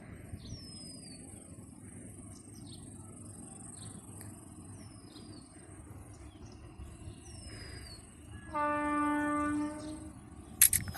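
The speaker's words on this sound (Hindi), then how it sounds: "रेल क्रॉस करते हुए" A train crosses on the Jammu–Srinagar railway line, rumbling far off beneath loud cricket chirps and birdsong, then sounding a sustained horn blast near the end.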